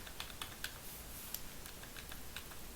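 Computer keyboard keys, including Shift and the arrow keys, are pressed in a few separate, quiet clicks spaced irregularly over a soft background hiss.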